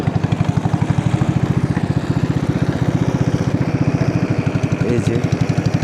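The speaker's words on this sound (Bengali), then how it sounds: "মাঝখানে আঁকাবাঁকা এই রোমাঞ্চকর মাতামুহুরী নদীর আমাদের বোটে এখন চালু দিয়েছে মিস্টার রাসেল।" A boat engine chugs steadily as a long, narrow wooden boat travels along the winding Matamuhuri River near Chakaria, Chattogram, its rapid regular putter loud and close throughout, with no talk over it.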